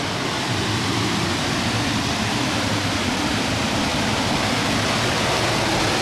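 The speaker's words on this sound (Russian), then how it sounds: "Достаточно такой сильный водопад, его высота 2 метра." A steady, loud roar of a two-metre waterfall on the Zhane River near Gelendzhik fills the whole stretch without pause, broad and constant, close by.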